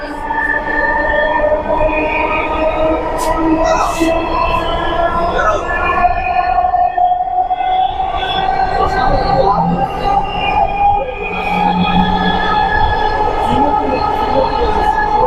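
A Dhaka Metro Rail MRT Line-6 train running at speed, heard from inside the carriage as a loud, steady rumble with sustained tonal whine and hum that shift as it accelerates.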